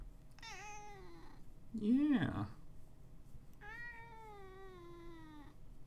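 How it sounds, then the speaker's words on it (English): A cat gives three drawn-out, irritated meows, the middle one a louder, strained cry. A person briefly speaks quietly nearby. "when my cat sounds irritated"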